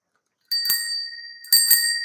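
A bicycle bell on a Schwinn bike in a home repair setting rings twice, two bright, sharp metallic dings about a second apart, each leaving a clear sustained ring, close and alone.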